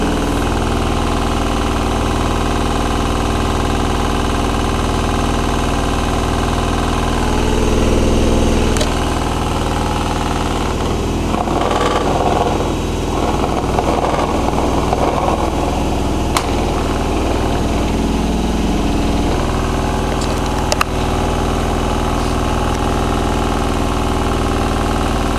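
A Miele W5748 washing machine on a 40°C cottons full-load cycle doing its final spin at 1200 rpm, a loud steady high whine and rumble that holds constant for the whole stretch with small mechanical clicks.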